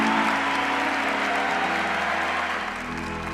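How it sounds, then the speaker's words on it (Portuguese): Audience applauding after a Catholic talk on chastity, steady clapping at moderate level with a sustained tone underneath, tapering slightly toward the end. "Pode aplaudir."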